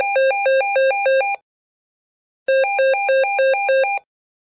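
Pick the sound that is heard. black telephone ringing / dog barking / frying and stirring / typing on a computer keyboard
black telephone ringing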